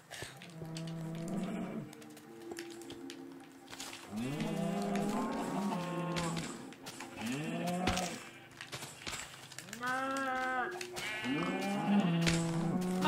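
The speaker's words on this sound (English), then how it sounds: "now that cow came in" Minecraft cows moo repeatedly in a video game, several drawn-out, pitch-sliding calls overlapping one another, mixed with bleating from Minecraft sheep, loud and close throughout.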